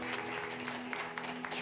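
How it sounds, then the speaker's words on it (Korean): A church congregation claps after a baptism at a Sunday service, a faint, continuous wash of scattered applause over a steady low hum in the room. "큰 박수로 격려해 주십시오."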